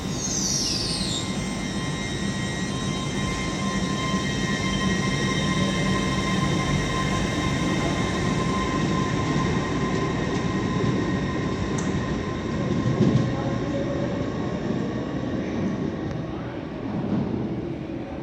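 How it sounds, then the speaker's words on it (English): A Transpennine Express class 802 train pulls out of Manchester Victoria bound for Liverpool Lime Street, a steady loud engine drone with sustained tonal whine and rumble lasting throughout, alone with no talk. "as this Transpennine Express class 802 departs for Liverpool Lime Street now"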